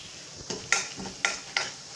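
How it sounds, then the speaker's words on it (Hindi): A pan of red chili powder, deggi mirch, turmeric and garam masala roasts while a spoon stirs it, giving three or four quick scraping strokes over a soft, close sizzle. "इन मसालों को अच्छे से भून लेना है।"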